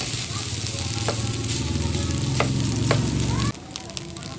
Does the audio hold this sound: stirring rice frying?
yes